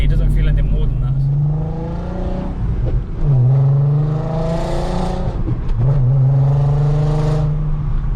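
Naturally aspirated 247 bhp VW Golf R32 engine pulling through the gears on the road, a steady droning hum that rises in pitch, drops at each shift around three and six seconds, then climbs again, loud and continuous.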